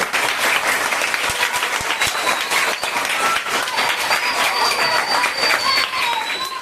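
An audience claps steadily for a storyteller, dense sustained applause close and loud throughout, with faint voices mixed in beneath the clapping.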